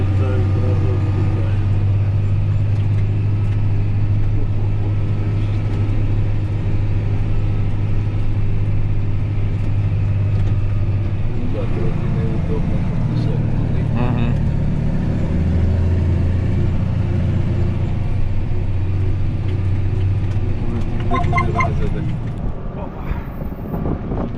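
A John Deere combine fitted with a Veles Agro Hit 6 header works through wet corn: a loud, continuous low engine drone with churning, crunching texture throughout, and a brief rattling burst near the end.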